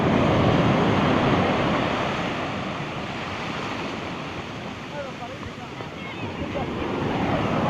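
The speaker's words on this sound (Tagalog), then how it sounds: "Big waves, Palapag, Northern Samar." Big ocean waves at Talolora Beach in Palapag, Northern Samar, roar close and loud in a continuous wash of surf, swelling and easing slightly with wind noise on the microphone.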